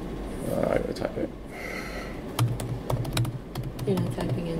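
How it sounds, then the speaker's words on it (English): Someone types on a computer keyboard in a workshop room, a quick run of clicky keystrokes at close range under ongoing talk. "I gotta type it."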